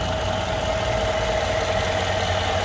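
A 2015 Mercedes-Benz GL550 4Matic V8 SUV idles steadily and evenly, a low continuous rumble with a faint whine on top, no voices.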